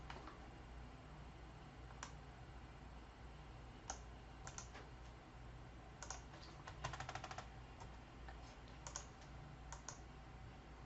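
Sparse, faint clicks of computer keyboard arrow keys being pressed one at a time at an irregular pace, including a brief quick run of taps, over a quiet room hiss.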